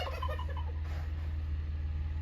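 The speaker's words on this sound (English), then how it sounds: "I am here to feed their chickens fast" Chickens cluck and warble briefly at the start, close by, over a steady low hum.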